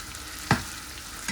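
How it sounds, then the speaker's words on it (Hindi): Potatoes and radish roasting with spices in a pan, a soft steady sizzle with two brief scraping stirs, the first louder, close and quiet with no voices. "मसाले के साथ रोस्ट हो रहा है।"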